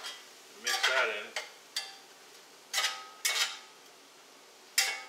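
A spoon scrapes and knocks against a pan while thyme and black pepper are stirred into dirty rice, in several short separate bursts with quiet gaps.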